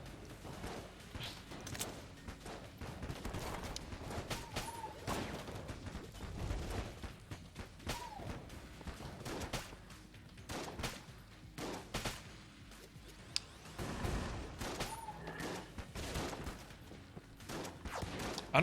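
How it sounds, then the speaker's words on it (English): Repeated rifle shots from a Winchester in the Enter the Gungeon video game, irregular sharp cracks mixed with game effects and background music throughout. "Winchester is actually a really good weapon for this because it's super accurate and every shot you make is incredibly deliberate."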